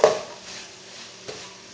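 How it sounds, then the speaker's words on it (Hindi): Spinach stir-fried in a pan over medium heat with a spoon, giving a short scrape and clatter at the start, then a soft steady sizzle with one more faint tap near the end. "ऐसे ऐसे मीडियम आंच पर चम्मच चलाते हुए भूनना। पालक हमारी अच्छी तरह मिक्स हो जाएगी।"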